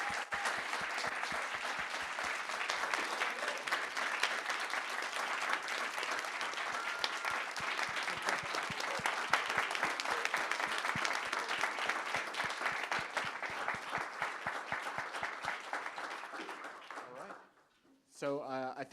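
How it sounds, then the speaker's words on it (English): A conference audience gives a long, steady round of applause for student panelists, with crisp individual claps within the crowd sound, fading out before a voice begins speaking at the close. "Another round of applause."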